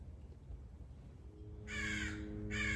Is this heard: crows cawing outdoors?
yes